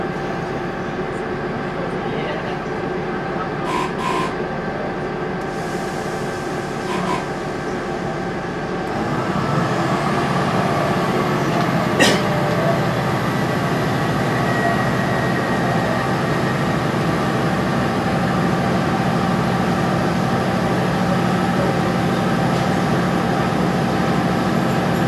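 A train pulls out of Shrewsbury with a steady low rumble and engine drone that grows louder partway through and then holds at a constant level.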